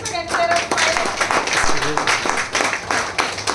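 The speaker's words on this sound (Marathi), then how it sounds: "त्यासाठी जोराने एकदा टाळ्या" Applause from an audience at a training session, a burst of hand clapping that continues steadily for several seconds, loud and close, with some voices mixed in.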